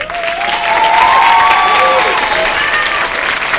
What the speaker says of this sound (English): One more long round of applause for these lovely people.